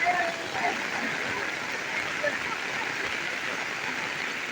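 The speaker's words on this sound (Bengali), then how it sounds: "বৃষ্টি হচ্ছে" Rain falling outdoors in the countryside, where cattle stand and a balloon-popping game goes on, a steady moderate wash of drops and trickling water with faint distant voices underneath.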